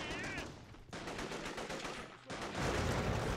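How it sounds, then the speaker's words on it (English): Grenade launcher fire hitting a vehicle in Men of War: Assault Squad 2, a dense, continuous barrage of loud rapid gunfire and blasts with brief dips, intensifying toward the end. "This vehicle is taking grenade launcher fire from the other side of the wall"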